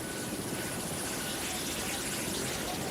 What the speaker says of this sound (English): Like Vietnam, a conflict dominated by the helicopter gunship.